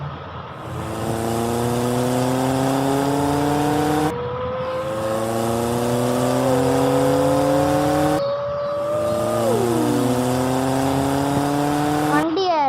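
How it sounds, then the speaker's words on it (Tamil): A vehicle in the video game Minecraft drives fast with a steady, continuous engine drone whose pitch climbs in repeated rising sweeps, like shifting through gears, loud and unbroken for the whole stretch with no talking. "வண்டி எடுத்து வேகமாக போகிறோம்"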